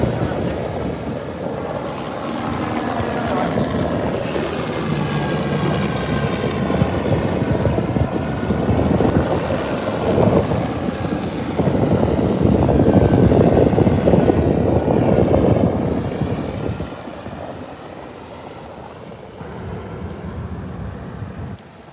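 A helicopter drones steadily overhead at Fort Myers Beach a month after Hurricane Ian, its thumping rotor and engine swelling louder midway before easing off slightly, with no voices.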